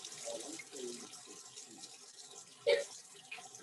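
Water runs steadily from a lab tap into a sink, a soft continuous flow with a sharper splash near the end and faint voices in the background.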